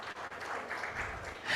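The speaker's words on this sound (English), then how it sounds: "Ladies and gentlemen, a warm applause for all our panelists and our leaders for joining us today." Brief, fairly faint applause rises from the audience for panelists at a programmatic advertising conference, a soft wash of clapping.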